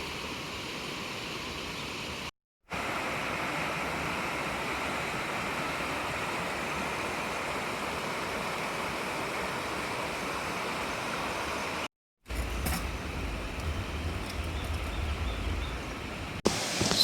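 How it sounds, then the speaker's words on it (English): A river flows beneath wooden trestles along a bike trail in the Black Hills, a constant, dense rushing wash close by. It continues without a break through two brief cuts, with faint scuffing near the end. "Can you hear the river behind me?"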